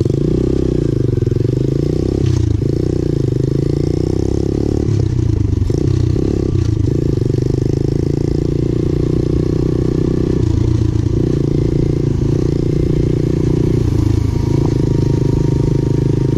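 A Chinese pit bike motorcycle engine drones steadily up close while being ridden, with the engine note rising and falling and rattling clatter mixed in.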